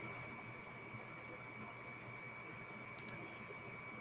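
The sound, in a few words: air conditioner running in the background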